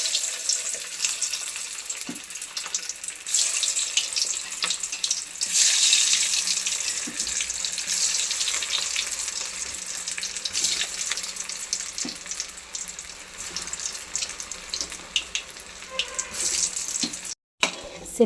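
Balls of carrot and potato bonda fry in hot oil, a steady loud sizzle and crackle with brief bursts as more are dropped in, close and alone without talk.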